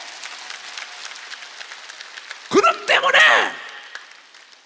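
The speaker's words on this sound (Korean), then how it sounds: "박수 좀 세게 치라고." A church congregation at an evangelistic revival meeting in Daegu claps steadily for a couple of seconds, then a preacher's voice cuts in loudly as the clapping fades beneath him.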